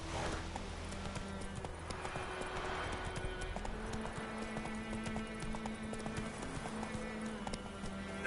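Horse hooves clip-clop steadily at a walking pace in a video game, a continuous rhythmic clopping with a game music bed underneath.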